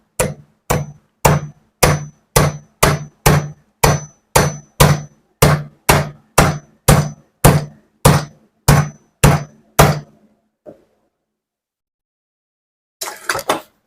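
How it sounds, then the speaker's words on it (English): Metal hammer taps on HW50s .177 air rifle parts during reassembly, about twenty sharp, evenly spaced strikes over ten seconds, loud and close, then a pause and a final quick flurry of taps. "Take my trusty hammer."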